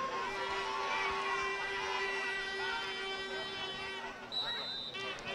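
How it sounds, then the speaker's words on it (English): High school football crowd cheering in the stands, a continuous distant hubbub of many voices and shouts with a faint sustained tone underneath, steady throughout and fairly quiet. "Crowd really into it today."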